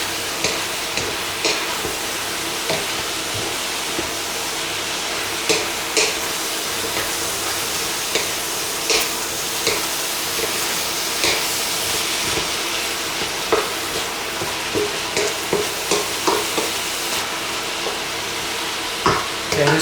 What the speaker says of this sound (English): We'll give that stir fry with the onions here.